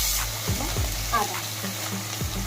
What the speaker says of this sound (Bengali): তেজপাতা, শুকনো লঙ্কা, কাজু, দারচিনি, লবঙ্গ একটু নেড়ে নিয়ে দিয়ে দিলাম